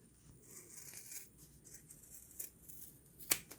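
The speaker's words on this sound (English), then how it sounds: "what I want to do for the opening is cut a little tab" Scissors make a few quiet snips while cutting a small tab of fabric, with one sharper cut near the end against a hushed room.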